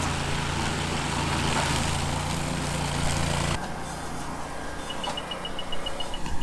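A loud Ventrac boom mower engine drones steadily under heavy load with a rough, grinding roar while cutting brush on a steep pond slope, then shifts to a lighter running tone. Faint beeps follow.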